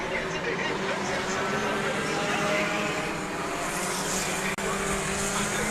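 Front-wheel-drive race cars circle an oval track at a spring shootout, a dense sustained engine drone blending several cars with no clear passes, under a race commentator's voice.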